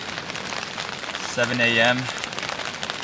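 Heavy, steady rain patters and hisses throughout at a creekside campsite, with a person briefly speaking over it partway through.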